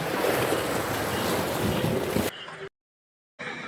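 Ocean waves surge and wash steadily against a shoreline fishing spot, a loud, broad rushing roar mixed with wind buffeting the microphone, which then cuts off abruptly into a brief gap before the rush resumes.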